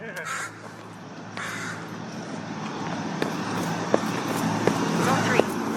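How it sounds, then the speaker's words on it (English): Crows caw repeatedly outdoors over a steady backdrop of passing road traffic, with a few sharp calls standing out near the end. "Those birds just wanted to be in on the recording."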